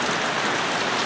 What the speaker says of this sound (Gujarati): વરસાદ આવી ગયો છે ફૂલ જોઈ શકો તમે